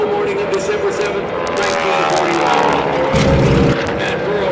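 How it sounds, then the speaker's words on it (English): Vintage propeller warplanes roar past in a Tora Tora Tora Pearl Harbor attack reenactment at an airshow, a loud, sustained multi-engine drone swelling as they pass close by, with an announcer talking over it. "watch the airplanes flying in front of you"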